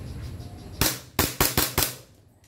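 Airsoft pistol, a 2011 Trex Hi-Capa or similar, fires several sharp, loud snapping shots in a quick irregular sequence, close by and without talk.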